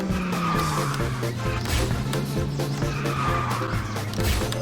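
A kart braking and skidding in a kart racing video game, with a continuous tire squeal and skid over a steady engine drone and some game effects.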